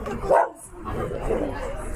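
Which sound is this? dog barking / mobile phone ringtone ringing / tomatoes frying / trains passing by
dog barking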